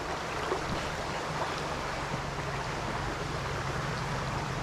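Creek water flows steadily in an otter and beaver habitat, a constant broadband rushing babble that holds even throughout, moderately loud and nearby, without voices.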